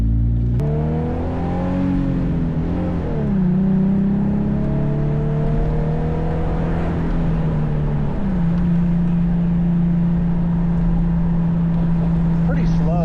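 A Nissan 350Z on its first drive pulls away with a steady engine drone that climbs in pitch, drops sharply at two gear shifts, then settles into an even cruising note, close and continuous.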